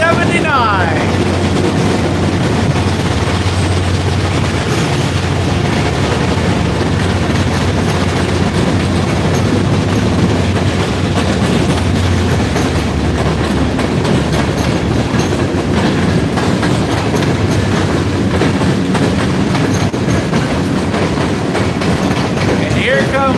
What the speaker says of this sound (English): And locomotive 4779.